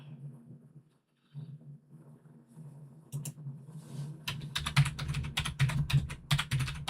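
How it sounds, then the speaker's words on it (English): Typing on a computer keyboard during a live craft stream: a quiet stretch with low hum, then a fast, close clatter of keystrokes in irregular bursts, growing denser toward the end, with no talk. "Just type in Snuggly Wuggly,"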